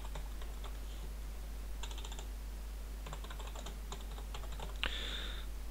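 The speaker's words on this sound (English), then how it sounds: "My typing is no good today." Quiet, irregular keystrokes clattering on a computer keyboard, in short clusters with pauses, ending in a sharper key press over a steady low hum.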